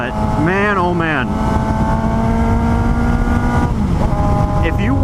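A 2018 Suzuki GSX-S 750 motorcycle is ridden. Its engine drones steadily and loudly with rising and falling revs, continuous under wind noise throughout.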